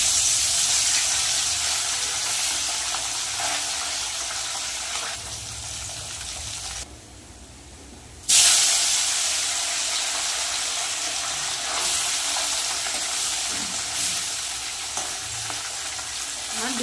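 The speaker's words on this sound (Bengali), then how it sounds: "এবার আমি মাছগুলো ভেজে নেব" Bele fish frying in hot oil in a wok, a loud, steady crackling sizzle that drops out for about a second and then resumes at full strength, with occasional stirring sounds and no speech.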